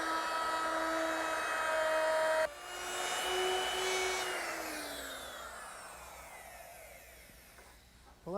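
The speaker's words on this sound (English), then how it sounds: "And I did that with my router and a 1/2 inch beating bit." A router fitted with a half-inch beading bit shaping the edge of a wooden chest-of-drawers top: a loud, steady motor whine that shifts pitch once, then spins down and fades toward the end.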